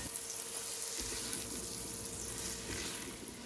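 Onions cook in an Instant Pot with a soft, low sizzle and light bubbling that stays faint and even, no voices present.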